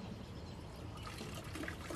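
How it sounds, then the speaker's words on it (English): Water trickles steadily as it is poured into extra-strong paper-marbling glue, a soft continuous pouring and dribbling sound heard up close without speech. "I'm gonna have to add some water to it"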